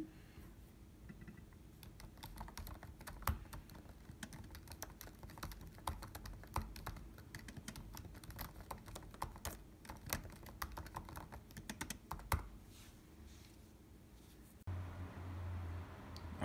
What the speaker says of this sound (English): The butterfly switches give a great clicky response letting you know that you hit the key. So for instance, I'll just type a little bit on here.